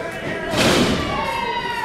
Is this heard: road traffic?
no